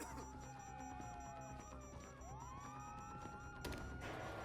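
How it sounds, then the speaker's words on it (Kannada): Police sirens in the GTA 5 video game, several wailing and sweeping tones overlapping at a moderate distance, followed near the end by a sudden crash-like burst. "ಸೈರನ್ಸ್ ಬಂದಿದೆ. ಮೇ ಬಿ ಪೊಲೀಸ್ ಎಲ್ಲ ಬಂದಿದ್ದಾರೆ ಅನ್ಸುತ್ತಾ ಆಚೆ."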